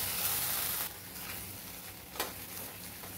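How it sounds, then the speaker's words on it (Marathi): Khandoli masala paste sautéing in a pan gives a soft, even sizzle, loudest in the first second, with one brief scrape of a utensil partway through. "जी पेस्ट आहे ती पण टाकून घ्यायची. त्याला छान असं परतून घ्यायचं."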